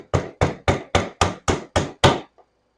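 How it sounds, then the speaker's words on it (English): A hammer drives a tube seal down onto the valve cover of a first-generation Toyota Tundra engine with eight evenly spaced, sharp metallic taps. The strikes are close and distinct, followed by a faint final touch, with no talking. "I hammer it down until it bottoms out on the valve cover."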